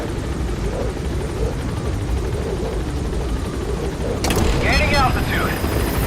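In Metal Gear Solid V, a game helicopter gains altitude with a steady, dense rotor and engine roar throughout. Near the end, a voice and brighter rising tones rise over the roar.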